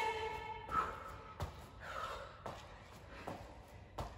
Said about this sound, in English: Apologies for my heavy breathing.